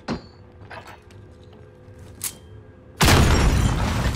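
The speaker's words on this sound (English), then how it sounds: "Flash grenade." A flash grenade in the Warzone video game goes off as a sudden loud burst of broadband noise after a few quieter clicks and game sounds, the blast sustaining as a harsh roar to the end.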